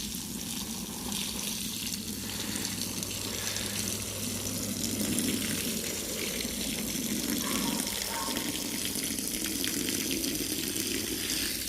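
Water gushes and hisses steadily throughout, a continuous rushing flow of cleaning water being pushed through and extracted from a wool rug during urine treatment, close and fairly loud.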